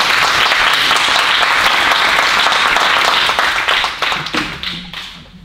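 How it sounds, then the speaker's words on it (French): Applause sweeps through the room at the installation of a French municipal council, sustained and fairly loud for about four seconds before tapering off into scattered claps. "Merci, on peut l'applaudir aussi."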